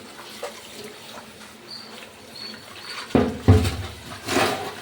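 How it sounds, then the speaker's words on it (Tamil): Sirukeerai greens are rinsed in water, giving soft swishing at first and then louder splashes and sloshes toward the end, close by. "கீரையை நல்லா சுத்தம் பண்ணிக்கலாம் அலசி"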